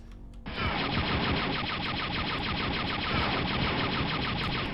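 A turret in the video game Star Wars: Dark Forces fires a sustained, rapid stream of blaster shots, starting abruptly after a brief pause and continuing loud and unbroken to the end.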